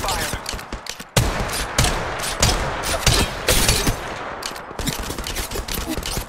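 Rapid bursts of gunfire in the video game Apex Legends Mobile, loud and close, with repeated volleys and sharp single shots over a steady din of battle.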